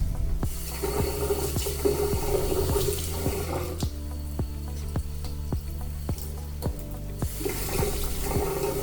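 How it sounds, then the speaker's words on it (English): Cold tap water running steadily into a bowl of hot hard-boiled eggs in a hotel room, a continuous splashing stream with repeated sharp knocks and clicks of eggs and bowl, close and alone. "And ran cold water on them."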